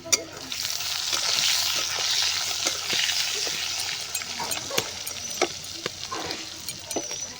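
Potatoes fry in hot oil alongside magur fish, giving a continuous close sizzle with scattered sharp pops and crackles throughout, no voices.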